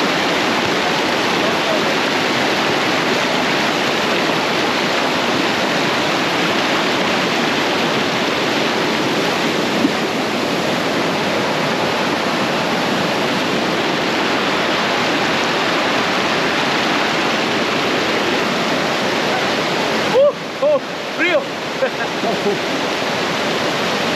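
A loud, steady roar of a jungle waterfall in Colombia fills the whole stretch, broadband and unbroken, with a brief bump of handling noise near the end.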